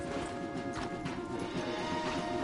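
Horse hooves clip-clop steadily on a path in a PS4 video game, a continuous close rhythmic clatter with a faint whinny, over a low ambient game background.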